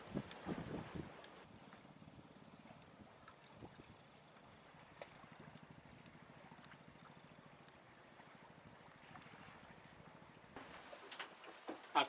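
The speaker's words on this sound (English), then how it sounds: "the wind just blows straight up through here" Wind blows across a sailboat at anchor, a faint, steady low rush with slight gusting, and louder buffeting bursts against the microphone at the start and end.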